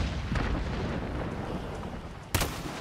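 A grenade goes off in the video game Hunt: Showdown 1896, a distant rumbling blast over steady low background noise, followed by a single sharp crack near the end.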